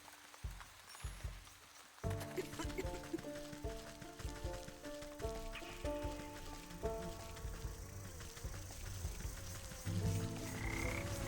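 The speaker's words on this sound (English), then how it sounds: "Right, frog." A frog croaks repeatedly in the fantasy crafting game Wytchwood. The quiet start gives way to dense, rhythmic croaking, mixed with game music and a light rain-like patter.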